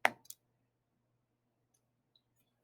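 A computer mouse gives two quick, crisp clicks close by at the start, followed by near silence with only a faint background hum.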